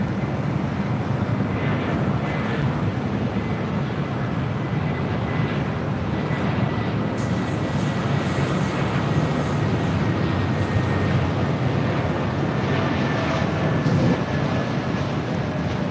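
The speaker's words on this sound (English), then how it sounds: "This is Spirit Airlines 1719 coming in from Las Vegas on an A320neo." A Spirit Airlines Airbus A320neo arrives at LAX from Las Vegas, a continuous broad jet roar that holds loud and steady throughout, with wind buffeting and no clear voices.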